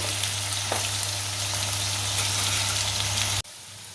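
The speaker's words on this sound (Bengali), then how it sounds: "আলুগুলো হালকা লাল করে ভাজবো।" Potatoes fry in hot oil for a paneer kofta dish, a loud and steady close-up sizzle with a faint low hum beneath, cutting off abruptly near the end.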